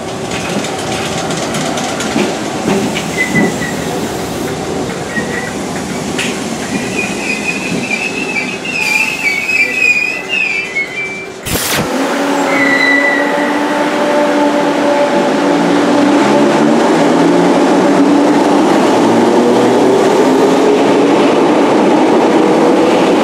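A Merseyrail train, unit 507001, arrives at a station with loud, close rumbling, wheel squeal and rhythmic rail clatter, a sharp jolt midway, then a steady, heavy roll.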